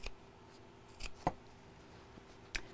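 Scissors cutting carefully around quilting fabric, giving a few separate, crisp snips spaced irregularly over a quiet background.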